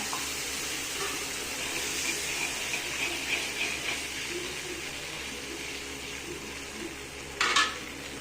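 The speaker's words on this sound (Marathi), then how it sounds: "हे बघा, चांगली उकळी आली आहे" Onion-tomato gravy with added water bubbles in a pan, a soft continuous simmer with faint popping and a brief louder scrape or stir near the end.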